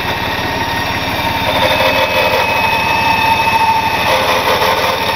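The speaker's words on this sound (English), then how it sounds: "We're gonna run it all the way in here to my winch itself." A vehicle-mounted winch with an XL winch ring and rope line spools in its line with a steady, loud motor drone and whine that runs unbroken and close by, no voices.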